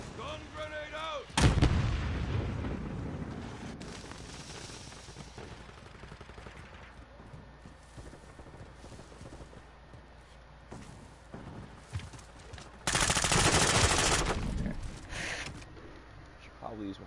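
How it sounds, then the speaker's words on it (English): In a video game, a thermite charge and stun grenade go off amid gunfire: a sharp blast early, scattered shots and distant rumbles, then a second loud sustained burst near the end, with talking in the background. "Throwing thermite. Bravo. Stun grenade out."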